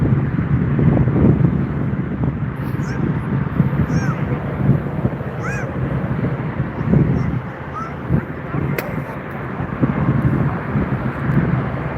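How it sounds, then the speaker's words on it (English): A LATAM Airlines Boeing 777 roars on the ground at Frankfurt Airport, a loud broad engine rumble that holds steady throughout, mixed with wind buffeting the microphone and a few faint bird calls. "Sorry, it's LATAM Airlines, Boeing 777"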